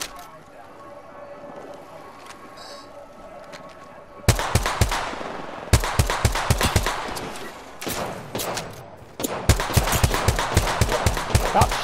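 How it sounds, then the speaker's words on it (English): Gunfire in a video game, a quieter stretch that gives way to loud bursts of rapid automatic shots in several volleys, with brief pauses between them, close and punchy. "Stop shooting at me if you can't shoot"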